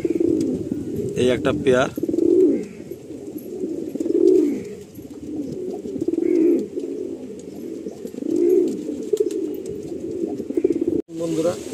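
A breeding pair of pigeons, the female among them, coos in repeated soft, rolling calls at a steady pace, close by, with someone talking over them and a brief flutter or rustle early on.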